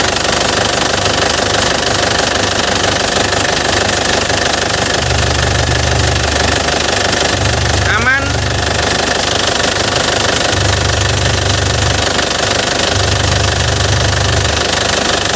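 A warm Isuzu Panther Grand Touring diesel engine idles loud and close, a steady knocking clatter that never lets up, with brief lower-pitched swells rising and falling under it.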